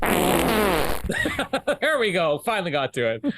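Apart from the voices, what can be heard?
wet fart sound effect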